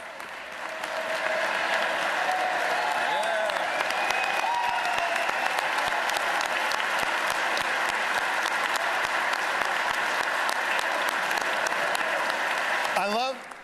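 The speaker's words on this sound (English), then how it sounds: "I love that our favorite plumber senator led the clapping for the trades." A crowd applauds the trades during a governor's budget address, the clapping swelling in within the first second, holding a loud, even roar, then cutting off near the end, with a few faint voices mixed in.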